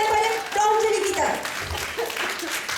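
An audience at a lingerie product presentation claps under the voices of several people speaking and cheering, the clapping moderate and fairly close throughout.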